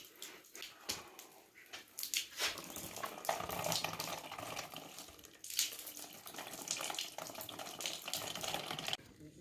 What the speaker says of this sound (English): You have to turn on the faucet or the lever underneath it